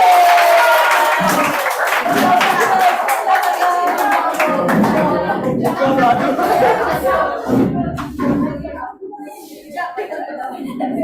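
A church audience at a children's ministry teachers training bursts into loud, sustained applause after a drama performance. Dense clapping mixes with cheers and crowd chatter, then tapers slightly toward the end.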